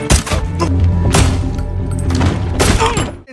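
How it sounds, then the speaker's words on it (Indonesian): Rapid bursts of gunfire in a film shootout inside a building crack and echo close by, several loud shots in quick succession over a dense, reverberant background. "Suara tembakan menggema hingga ke seluruh gedung."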